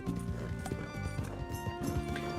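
Horse hooves clip-clop in a steady, brisk rhythm in the Red Dead Redemption 2 video game, close and continuous, with faint game ambience and a light tonal hum beneath.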